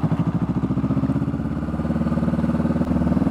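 Motorcycle with a slip-on muffler, its exhaust throbbing in a steady, loud, close idle-to-low-rev pulse that rises slightly in pace over a few seconds, with no talk.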